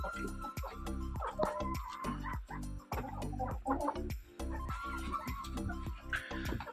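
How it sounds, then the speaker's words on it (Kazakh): Egg-laying hens cluck and squawk in an indoor henhouse, their calls faint and scattered beneath a person speaking steadily throughout. "Так, бұл бізде туатын тауықтарымыз."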